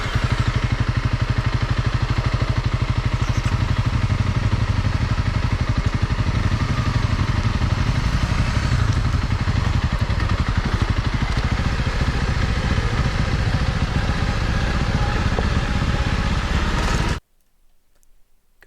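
A Honda CRF 300 Rally motorcycle rides down a rough road, its engine droning loud and steady with rattling clatter throughout, then cutting off abruptly near the end.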